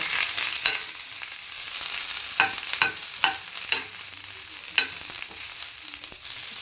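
Coriander crackles and sizzles in a hot pan as it roasts, with a steady frying hiss broken by repeated scraping strokes of a spatula stirring.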